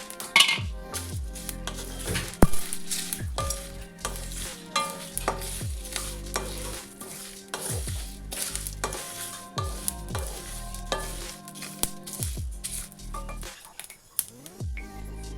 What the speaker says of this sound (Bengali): এটা একটু ভাজা ভাজা হতে এর মধ্যে দিয়ে দিচ্ছি গোটা জিরে